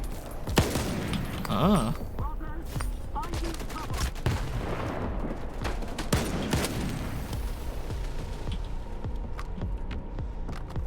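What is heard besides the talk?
gunfire shooting emitters in the video game Stalker 2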